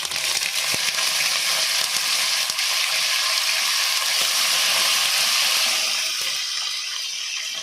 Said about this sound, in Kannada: ಇವಾಗ ಕರಿಬೇವು ಹಾಕ್ತಾ ಇದ್ದೀನಿ ಸ್ವಲ್ಪ